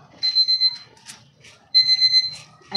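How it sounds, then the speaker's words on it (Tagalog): An alarm goes off in two bursts of steady high electronic beeping with a short gap between, while people talk in the background. "Nag-alarm na."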